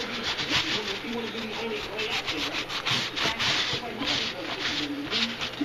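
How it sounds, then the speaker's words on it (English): Leather knife sheath for a KA-BAR USMC knife being rubbed to lift excess stain off its tooled pattern, a steady close scrubbing with soft rhythmic strokes running throughout, while a person talks over it. "I'm just working a little bit of the excess stain off of the pattern."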